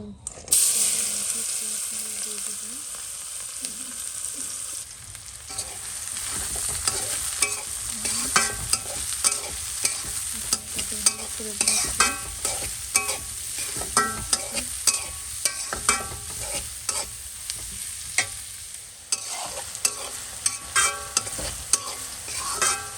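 Fish sizzles in a frying pan with steady crackling oil, broken by repeated scraping and clinking as it is stirred and turned, close and fairly loud with no talking.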